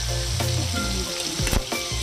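Dried salted fish sizzles and crackles in a hot pan, a loud steady frying hiss with a few sharp scrapes and clatters of stirring near the end, and no voices.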